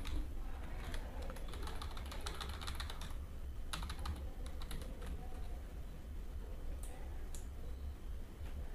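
Steady typing on a computer keyboard while entering text into a shape in MS Word, with rapid clustered key clicks in bursts over faint background hum, close and fairly quiet.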